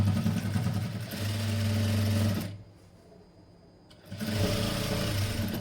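A sewing machine stitches a blouse with a steady, fast whirring drone, running for over two seconds, pausing briefly to near quiet, then starting up again at the same pace.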